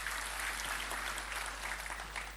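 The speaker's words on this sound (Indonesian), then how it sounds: "Berikan tepuk tangan buat Tuhan Yesus" A church congregation applauding during a Sunday service, giving a steady, dense wash of many hands clapping that carries on evenly throughout.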